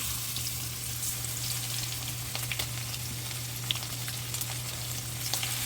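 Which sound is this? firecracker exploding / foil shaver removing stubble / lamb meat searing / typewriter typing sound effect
lamb meat searing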